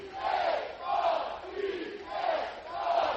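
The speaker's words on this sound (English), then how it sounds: "the fans getting a card cheer going out of the gate here with 2 out" College baseball crowd at a Louisville NCAA Super Regional game chanting a rhythmic, rising and falling cheer, a large mass of voices swelling in repeated waves from the stands, steady and fairly loud.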